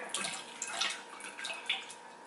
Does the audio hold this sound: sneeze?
no